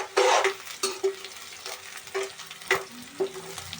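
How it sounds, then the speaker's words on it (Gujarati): Green chillies sizzle with onions in a hot pan for an egg and green pea curry, a steady frying hiss broken by repeated clinks and scrapes of stirring, close and without talk. "તો હવે આપણે મરચાં એડ કરી દઈશું."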